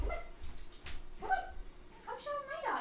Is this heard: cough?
no